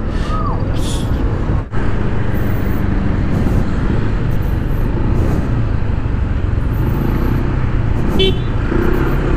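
Dense road traffic rumbles continuously at Kalentong, with several short car horn toots scattered throughout and a passing motorcycle adding engine noise.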